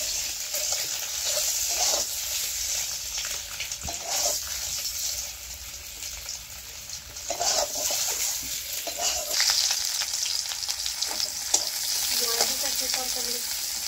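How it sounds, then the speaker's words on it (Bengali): Oil crackles and sizzles steadily in a pan as an egg fries in a little oil, with occasional scraping and clinks, fairly close and continuous, no voices. "ডিমটি ভাজা করে লাইতেছি।"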